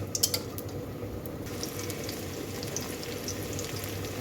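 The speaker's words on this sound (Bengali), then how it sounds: "মরিচগুলো এভাবে ভেজে নিলাম" Green chilies fry in hot oil in a pan, giving a steady, soft sizzle with a faint low hum underneath and a few small crackles near the start.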